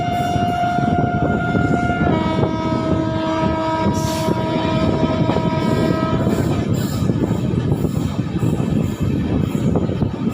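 A passenger train running between Ludhiana and Chandigarh rumbles steadily and loudly, with sustained horn blasts in the first several seconds over continuous rail noise.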